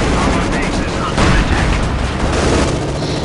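Dense gunfire and booming explosions from Company of Heroes 2 as units attack a Katyusha rocket truck, a loud continuous barrage of shots and blasts with no pause.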